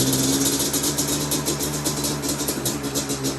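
A Yamaha Banshee ATV engine idles high, a close, continuous buzzing drone with a rapid pulsing throb and no pauses.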